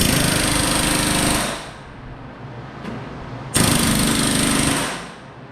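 Pneumatic rivet gun driving rivets into aluminum top wing skins and J channels of a Van's Aircraft RV-10, heard as two loud sustained rattling bursts with a short quiet gap between them.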